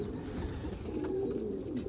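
Pigeons cooing softly in the morning as they are fed corn outdoors, low throaty coos repeating over faint background noise.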